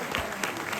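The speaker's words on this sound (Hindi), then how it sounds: "उनके लिए भी एक बार जोरदार तालियां बजा दीजिए" Brief burst of audience applause for an actor who played Sidhu ji in the Darpan group's stage play Swaha at a cultural program at CSIR-CDRI, Lucknow; dense, steady clapping from a crowd lasting under a second.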